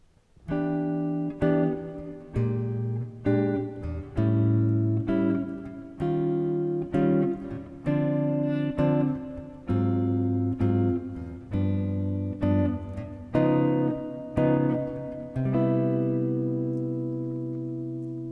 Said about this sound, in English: So if I play those chords just at face value with no melody,